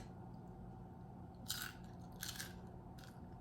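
A few crisp bites into an oven-baked crouton, two or three short crunches standing out over a quiet steady hum in a kitchen.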